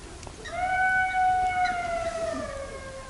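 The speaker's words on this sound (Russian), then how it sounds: "Это волк." A wild wolf or jackal howls from the far side of a river at a night fishing camp, a single long, faint, wavering tone that rises slightly and slowly fades.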